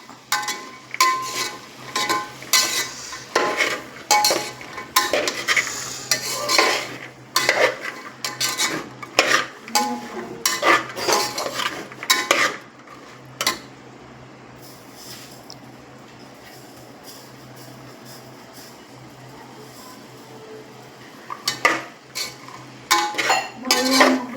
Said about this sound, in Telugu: అనప గింజలు వేసుకున్నాం బాగా కలపెట్టుకోవాలి